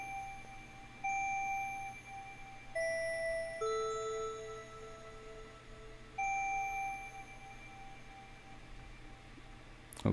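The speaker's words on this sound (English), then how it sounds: "Our third sound is a bell." Clear, ringing bell tones struck in a simple pattern within a melodic trap beat, each sustaining briefly before the next, fairly faint against a low background hum.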